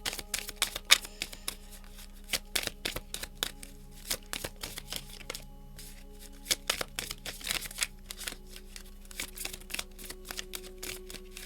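Tarot cards are shuffled by hand at close range while the reader sits on the ground, giving a run of quick, crisp riffles and slaps in irregular bursts with no talking.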